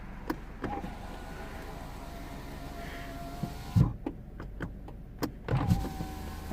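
Skoda Fabia 2 electric windows hum as they slide down and back up, a steady motor whine ending in soft thumps as the glass seats, with faint cabin noise around it.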